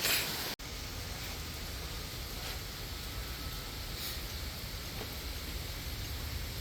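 Steady rain falls outdoors at a fishing spot, a broad continuous hiss of drops on surfaces with a brief dropout near the start, no voices.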